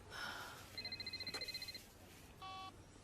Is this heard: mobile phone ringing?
yes